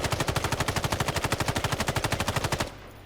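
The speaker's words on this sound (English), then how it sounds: "And now I shoot again." Rapid automatic gunfire from a weapon in the video game Islands of Nyne, a fast even stream of about two dozen sharp shots that cuts off abruptly near the end.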